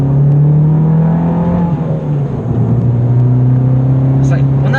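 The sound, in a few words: Fiat Abarth turbo car engine accelerating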